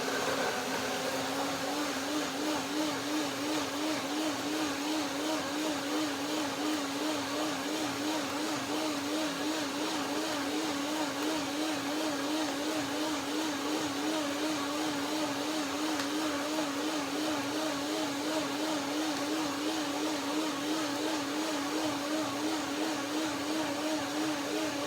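A blender whirs steadily, blending tangerines with juice for a mango chia pudding, a continuous close motor hum with a slight wavering pitch that runs unbroken from start to finish with no talking.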